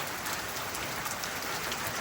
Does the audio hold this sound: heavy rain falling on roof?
yes